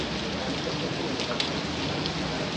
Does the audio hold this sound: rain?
yes